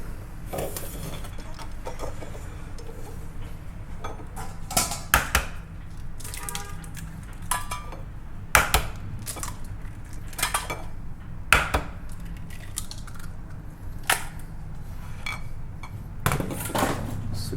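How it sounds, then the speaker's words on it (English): Kitchen sounds while making tamago tofu: an egg cracked into a bowl, then sharp clinks and taps of utensils against dishware as it is mixed with dashi, scattered irregular knocks over a steady low room hum. "So first, I'm gonna do crack the egg."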